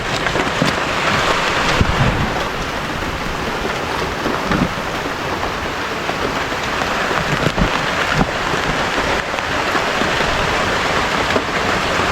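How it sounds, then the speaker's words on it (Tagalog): Heavy rain pours steadily in a rural provincial setting, a dense, continuous roar of drops hitting surfaces with scattered louder splashes, close and loud, with no talk over it. "Grabe yung ulan no?"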